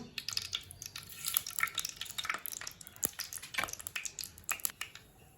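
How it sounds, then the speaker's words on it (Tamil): Mustard seeds in hot oil: rapid, irregular crackling and popping, sharp tiny bursts scattered densely over steady sizzle, close and continuous without any voices. "பாருங்க, கடுகு நல்லா வெடிக்குது."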